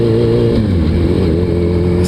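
Loud, close Suzuki Hayabusa motorcycle engine held at steady revs while shifting gears, a dense continuous drone with a slight pitch change partway through.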